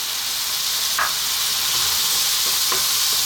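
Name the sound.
tomatoes frying and stirred in a hot pan for curry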